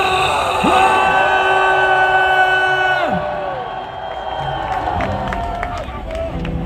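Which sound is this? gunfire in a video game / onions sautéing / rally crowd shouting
rally crowd shouting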